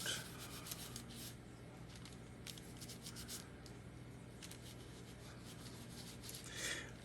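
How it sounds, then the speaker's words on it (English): Guitar hardware is rubbed down with fine steel wool to dull its shine, a steady close scratchy rasping with repeated strokes throughout, no voices. "give it a couple of rub downs to take some of the shine out"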